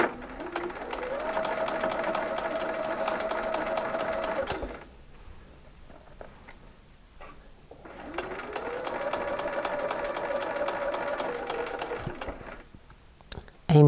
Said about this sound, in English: so that we can stitch right to the crossover point without stitching over